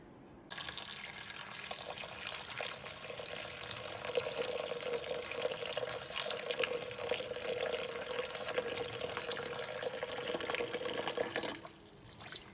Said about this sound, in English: I'm just gonna stick the cut leeks into my bowl, and I'm gonna cover it with cold water.